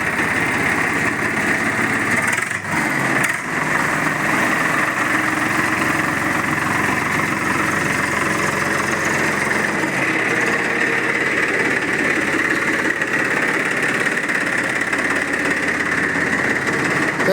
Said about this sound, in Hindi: ट्रैक्टर का स्टार्ट हुआ